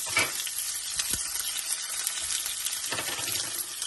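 Chopped onion hitting hot oil with fried cumin and chillies, a loud continuous crackling sizzle filling the whole stretch, close up, with a couple of faint scrapes and no voices.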